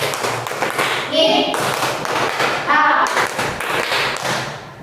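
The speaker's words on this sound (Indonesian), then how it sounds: "bagus, tepuk tangan, luar biasa ya" Classroom students clapping in short bursts, mixed with thumps and overlapping chatter, with speech running through the clip.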